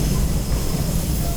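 An old train on the jungle railway to Gua Musang, heard as a loud, continuous rumble of wheels and carriages, close and steady for the whole moment.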